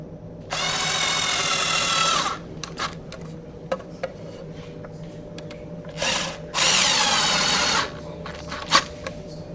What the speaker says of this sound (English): When you drive the screws, they will pull the shelf into alignment.